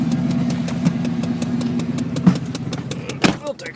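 A 1994 Chevy engine idles in winter with a steady mid-pitched hum and throb, joined by scattered clicks and knocks, while people talk over it in the middle distance.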